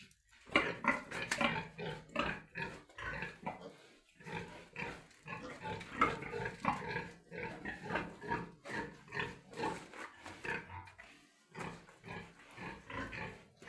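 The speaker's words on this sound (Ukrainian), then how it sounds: "Зараз ми цю свинку переженемо на вулицю." A pig grunts and oinks repeatedly at close range indoors, rough squeals and snorts coming in quick irregular bursts.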